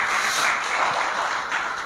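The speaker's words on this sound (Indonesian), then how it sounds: "Kasih tepuk tangan dulu yang meriah bagi Tuhan kita." A church congregation applauding together, steady broad clapping at moderate volume that holds evenly throughout without any voices on top.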